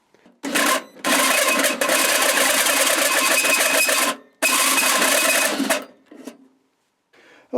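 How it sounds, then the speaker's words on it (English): A 2-inch wood bit bores meter holes through soft aluminum with a little machine oil, two long loud grinding, chattering runs separated by brief gaps, close up and without talk. "You can see that the next step is to drill the meter holes."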